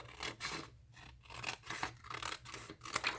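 Scissors cutting a planner paper sheet, heard as faint, close rasping snips repeated in quick succession with short pauses between them.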